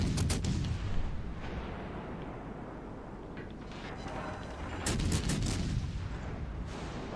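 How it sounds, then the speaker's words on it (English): Plunging 15-inch shells in World of Warships Legends, heavy artillery booms with a rumbling wash of impacts, a cluster of sharp blasts near the end, moderately distant. "that's the plunging 15-inch shells that I was always concerned about"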